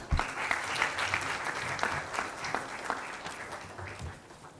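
An audience claps to welcome a speaker to the stage at a formal gathering, steady moderate applause with a few sharper individual claps standing out, gradually thinning toward the end.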